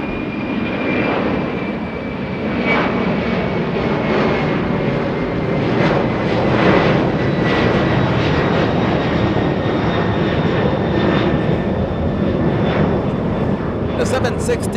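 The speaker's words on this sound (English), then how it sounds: "The 767, not a rocket, by the way. Not a rocket, but a pretty cool freighter departure." A FedEx Boeing 767 freighter departs Los Angeles International Airport, its jet engines roaring in a steady, broad, sustained rumble with a thin whine riding on top, heard from a distance with no talk over it.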